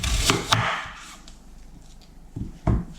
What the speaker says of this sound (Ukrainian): Цибулю нарізаю дрібненьким кубиком